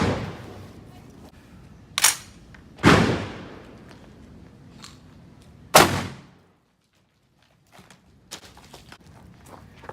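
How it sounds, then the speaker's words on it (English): Shotgun slug shots fired at a Devtac Ronin ballistic helmet: a few sharp, loud blasts ring out separately, each fading quickly, with faint handling noise in the quiet stretches between them. "We're gonna try to shoot it here this time with a slug."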